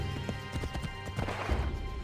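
Horse galloping in the video game Assassin's Creed 3, rapid rhythmic hoofbeats clopping close and loud, with a short whinny mixed in.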